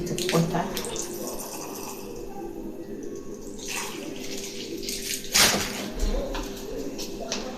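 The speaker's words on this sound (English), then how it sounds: "So I'll add a little bit of water." Water pours into whole grain pap being made as baby porridge, a soft running splash with a louder burst near the end, close and fairly quiet.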